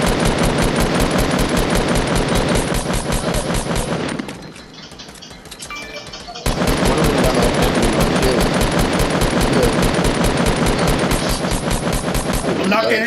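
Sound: gunfire from the video game Fortnite

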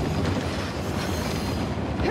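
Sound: train in Uncharted The Lost Legacy video game

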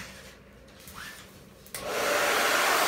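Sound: hair dryer blowing

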